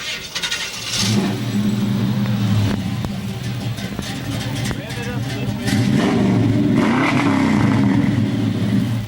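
A hot rod's engine rumbles nearby and revs hard twice, swelling to a throaty roar, while people talk over it.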